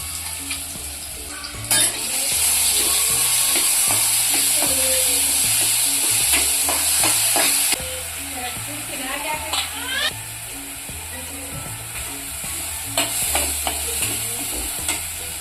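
Fenugreek greens frying with masala in a pan: a bright sizzling hiss swells for several seconds, then eases back. Utensil clinks and scrapes recur throughout, and a voice or background sound murmurs underneath.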